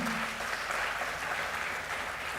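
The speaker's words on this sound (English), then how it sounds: "So a big round of applause for them" Applause from an audience at a pre-departure ceremony for students heading to study medicine in Russia, a steady dense wash of clapping that holds at an even level throughout.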